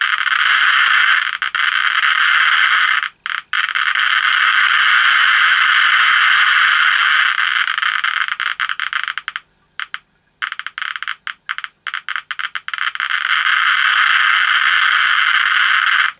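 A Mini Instruments Mini Monitor Geiger counter with an alpha probe crackles with a dense, rapid stream of clicks near radioactive samples. The rate stays loud and steady, briefly thinning into sparse ticks and short gaps before surging back.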